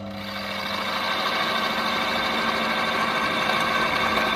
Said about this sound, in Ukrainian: І вмикаю мотор.